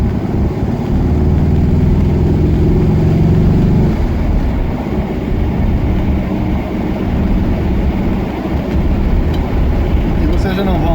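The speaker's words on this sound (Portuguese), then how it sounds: "Vou ficar quieto aqui pra gente poder ouvir o barulho do motor um pouquinho." Engine of a 1979 VW Brasilia running while driving: a loud, steady low drone with a humming tone that eases after a few seconds into a broader rumble of road and wind noise.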